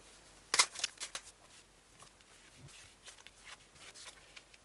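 Tarot cards are shuffled and drawn, with a sharp riffle at the start followed by soft, scattered flicks and slides of cards, close and quiet with no talking.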